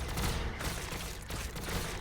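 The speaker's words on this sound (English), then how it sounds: "We're just going to shoot normally." Gunfire in the Warhammer 40,000 Battlesector video game crackles in dense, continuous bursts, loud and close, like a fusillade of rapid shots with no voices.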